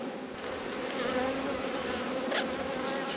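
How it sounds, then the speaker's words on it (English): Agitated honeybees swarm and buzz over an open hive full of brood, a dense, steady, close drone that swells slightly midway and continues without any talking. "Hive's starting to get a little bit more agitated."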